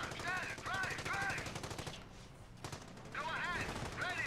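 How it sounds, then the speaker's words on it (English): Machine gun fire in a World War II video game, sustained rapid bursts that come loud and close, with a brief pause in the middle before the firing resumes. "Like here we ran into a machine gun."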